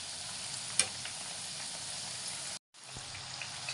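Sweet dumplings fry steadily in hot oil until browned, a dense continuous sizzle with a sharp clack near the start and a brief gap of silence before the bubbling resumes.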